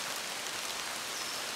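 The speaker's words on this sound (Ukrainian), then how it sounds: "Дощ на Амазонке явление не очень редкое, но такое мощное." Heavy rain pours down in the Amazon jungle, a dense, even hiss of countless drops hitting foliage and ground, steady and loud with no voices.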